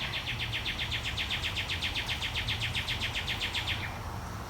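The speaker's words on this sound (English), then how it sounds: "Listen to the birds chirping." Birds chirp outdoors just after rain in a fast, steady trill of high repeated notes that runs evenly for about four seconds before trailing off, heard alone with no talking.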